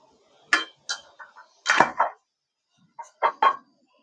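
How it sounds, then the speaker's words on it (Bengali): A plate of momos set down into a steamer, giving a few separate light clinks and knocks of metal and crockery, close by and moderately loud, with short pauses between them and no talk. "এবারে মোমোর থালাটা আমি এভাবে ধরে বসিয়ে দিচ্ছি"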